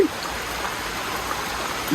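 Heavy rain pours down in hot sunshine, a steady broadband hiss of falling water that holds at an even level for the whole stretch with no gaps or voices.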